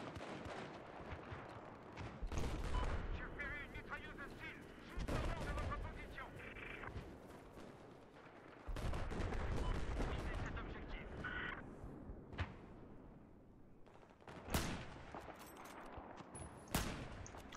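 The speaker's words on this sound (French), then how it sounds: "Ah bah j'ai tiré trop tard." Bursts of gunfire and explosions ring out in Battlefield 4 on the Caspian Border map, loud volleys separated by short lulls and sharp single shots, with the player's voice heard over parts of the action.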